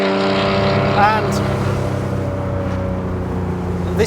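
A loud, sustained exhaust drone from a Theon Design Porsche 911 restomod with its valved exhaust in the loud setting, heard close up with a brief rev flutter early on and a steady rumble after.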